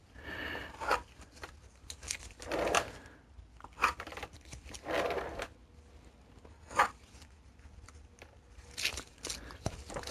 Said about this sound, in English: So what I'm going to do is just cut out all of these extra pieces.